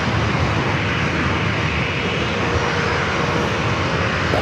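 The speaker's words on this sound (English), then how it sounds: "Next arrival, Delta Airlines flight 2572, coming from Seattle," A Delta Airlines Boeing 737-800 arriving from Seattle at San Diego airport gives a steady, loud, broadband engine roar that stays constant and close throughout, with no voices.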